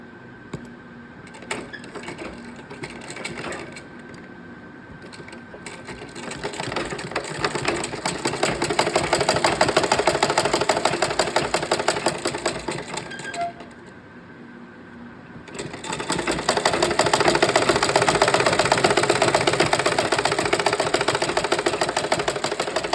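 Sewing machine stitching a pillowcase seam, a rapid mechanical chatter close by that runs in long bursts, slows briefly around the middle, then picks up again at full speed, with no talking.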